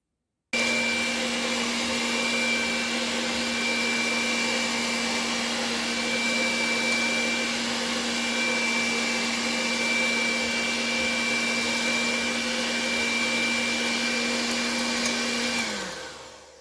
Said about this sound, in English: I am creaming my butter and sugar